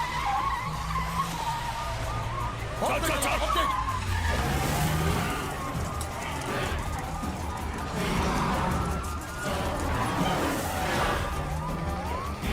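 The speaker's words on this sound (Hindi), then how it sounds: "गाड़ी चला गाड़ी चला गाड़ी चला।" A car drives hard and skids in a film action scene, with a continuous engine roar and repeated tire screeching over about twelve seconds while voices shout urgently.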